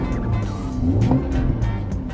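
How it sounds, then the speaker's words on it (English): A 2020 BMW M340i engine revs with a deep, steady tone that swells briefly near the middle before settling, heard up close and mostly without talk. "Just let me rev it so you guys can see."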